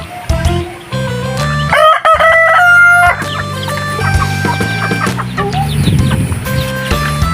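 Native chickens clucking near and loud around a rooster that crows a full cock-a-doodle-doo, with hens cackling and bird chatter continuing afterward, no voices.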